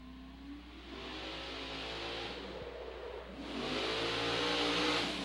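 A fire department drill team truck races down the course at a New York State drill team competition, its engine revving hard and accelerating in a steady, rising roar that swells louder toward the end, with no talk.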